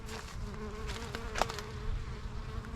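Honey bees from a swarm-started colony buzz during a hive inspection, a dense, droning hum with a steady pitch and individual bees passing close, defensive and unsmoked, with no talking.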